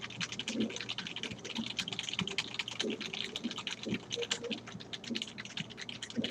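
Rapid keystrokes on a computer keyboard while characters are entered during a hands-on programming lesson on vectors and strings; a steady stream of close, crisp clicks with no voices.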